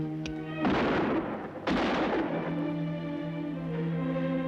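Gunshots fired at parasite creatures in a horror film: two loud, booming reports about a second apart, each ringing out into a long low rumble, with a faint pop just before the first.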